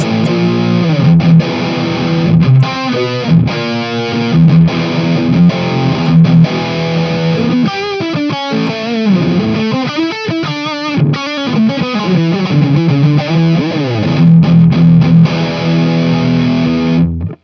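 Heavily distorted electric guitar plays chugging chords and riffs, loud and continuous, with a saturated, buzzy high-gain tone and no voices.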